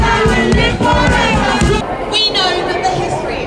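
A dense crowd at a march roars close around, with shouting voices, cheering and chatter layered together, and heavy low rumbling bursts in the first half before the din settles into a continuous loud wash.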